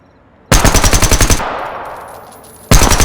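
Rapid automatic rifle fire in the Zero Hour video game, two loud close bursts of evenly spaced shots with a fading tail between them.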